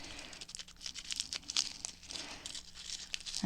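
Wax paper is cut and crinkled while shaping handmade paper flowers, producing a steady stream of close, crisp rustling, tearing and crackling with no talk.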